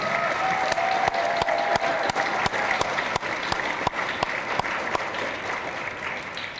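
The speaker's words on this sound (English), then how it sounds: "Can we just give our distinguished alumni one last round of applause?" An audience at a school distinguished-alumni awards event claps steadily and warmly, a dense crowd applause that carries on without pause and fades slightly toward the end.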